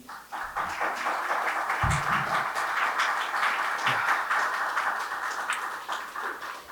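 An audience in a city council chamber at a planning and transportation hearing breaks into applause, a sustained wash of many clapping hands heard from across the room, steady and fairly loud throughout.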